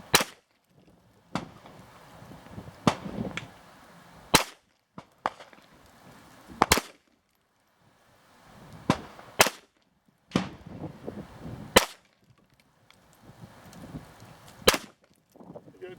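Sharp gunshots crack at a shooting lesson, about a dozen single reports spaced irregularly a second or two apart, with faint shuffling and handling noise between shots.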